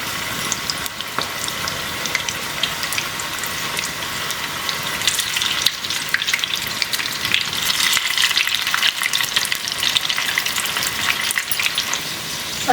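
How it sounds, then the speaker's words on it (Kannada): Sweet corn pakoda frying in hot oil makes a continuous, close, bubbling sizzle with crackles and splashy spatters throughout. "ಎಣ್ಣೆ ಚೆನ್ನಾಗಿ ಕಾಯ್ದಿದೆ ಇವಾಗ ನಾವು ಪಕೋಡನ ಹಾಕೊಂಬಿಡೋಣ"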